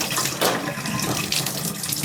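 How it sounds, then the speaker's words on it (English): Hot water running steadily from a tap into a laundry room sink, a continuous close splashing rush with no talk. "in our laundry room sink, we run the water till it's real hot"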